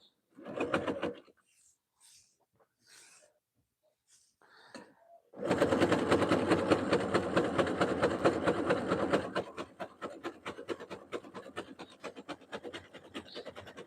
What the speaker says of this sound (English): let the machine stitch it at a pace that your machine can stitch it